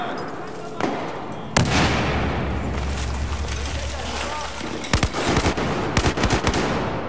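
Automatic M4 rifle fire in the Battlefield 4 campaign, heard as sustained loud shooting with booming blasts and sharp bursts near the end, mixed with game noise.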